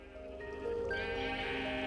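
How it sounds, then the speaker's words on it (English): Sheep bleating in Minecraft, several overlapping wavering bleats from a pen crowded with sheep, close and clear with no talk. "I've crammed 4 sheep of every single color in here, and they're all encased in glass"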